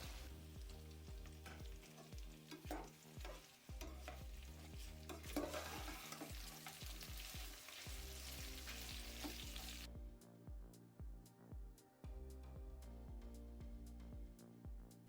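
Chopped onions and green chillies sizzle steadily in hot oil while a utensil scrapes and stirs the pan in repeated strokes, close up with no talking.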